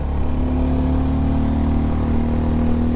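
A Suzuki Gixxer 250 motorcycle climbs a hill on a road to Ooty, its engine holding a steady, loud mid-pitched drone with no change in throttle over a few seconds.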